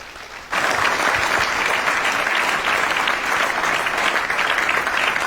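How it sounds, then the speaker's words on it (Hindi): Loud applause bursts from an audience at a company gathering for its vice president, starting abruptly and holding as a dense, steady clapping wash without talk. "एक बार जोरदार ताली होनी चाहिए हमारे कंपनी के वाइस प्रेसिडेंट रितेश सर के लिए"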